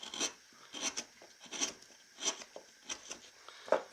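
Wood being gouged by hand while carving a cowboy figure, a series of short rasping scrapes in a fairly steady rhythm, close and moderately quiet, with no talking.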